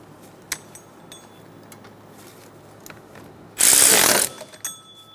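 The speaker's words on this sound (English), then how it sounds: "Snug the bolts down." A ratchet snugs down the power steering pump bolts on a 2003-2007 Honda Accord: a few sharp metallic clicks, then a loud burst of rapid close ratcheting lasting under a second, followed by a shorter burst.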